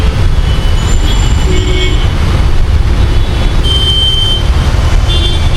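Busy roadway near a pharma building, engines droning loudly and continuously with several short horn toots from nearby vehicles, no talk.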